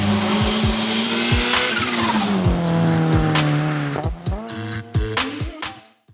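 A big-turbo Ford Fiesta ST at close range, revving hard and shifting through gears with rising and falling engine pitch, then sharp pops and crackles as it eases off.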